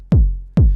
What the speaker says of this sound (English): So the kick drum without effects sound like this.